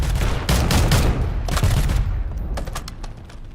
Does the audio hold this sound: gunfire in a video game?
yes